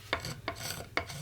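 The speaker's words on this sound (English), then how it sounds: "I'm just trying to basically remove the lacquer and get down to the sanding sealer under, and just scrape away" Lacquer is being scraped off a Telecaster guitar body down to the sanding sealer. Three close, dry rasping strokes each start sharply and trail off, with no talking.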